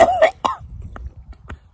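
Someone who has just choked on food gives a couple of harsh, close coughs and throat-clearing grunts, followed by quieter scattered clicks and breaths.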